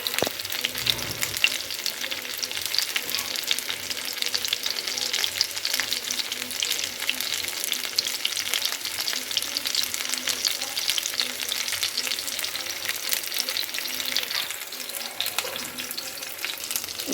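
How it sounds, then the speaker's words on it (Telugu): Fish pieces frying in oil on a low flame, a continuous bright crackling sizzle that stays steady and close throughout, with a faint knock near the start. "మనం ఇలా చిన్న మంట మీద మంచిగా ఫ్రై చేసుకోవాలి"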